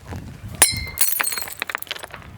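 A glass liquor bottle smashed with a stone: a sharp impact, then a bright shattering burst followed by scattered tinkling shards settling close by.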